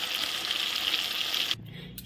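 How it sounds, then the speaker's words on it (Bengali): Rui fish sizzling steadily in hot oil in a pan, a loud continuous hiss that cuts off abruptly near the end, leaving a quieter low hum. "দেখো এক পাশ ভাজা হয়ে গেছে, আর এক পাশ ভাজা হচ্ছে।"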